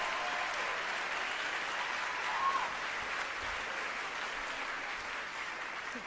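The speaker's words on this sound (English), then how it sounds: "And the crowd goes crazy." A crowd claps in steady sustained applause, a dense wash of hands that holds evenly throughout with no voices on top.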